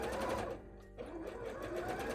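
A sewing machine stitches bra fabric in a continuous close, steady whirring run that briefly slows and dips around the middle before picking back up.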